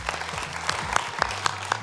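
Audience applause in a hall, a short burst of steady clapping from a crowd with a few sharper claps standing out.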